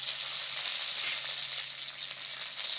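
Curry leaves, black mustard seeds and a dried chilli sizzling in hot oil for a tempering, a steady close hiss with faint crackles throughout and no talking.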